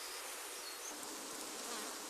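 Honey bees buzz at the hive as they fan air over nectar in the cells, making a steady, dense, faint drone with no voices.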